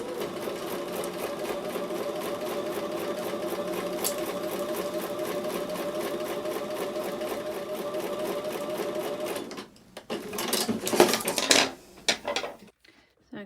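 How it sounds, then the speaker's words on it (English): A sewing machine runs a continuous steady rhythmic stitch on the last seam of a Baton Rouge quilt block, then stops, followed by a few clattering handling sounds. "I'm going to take that back over to the sewing machine for the last seam of this block"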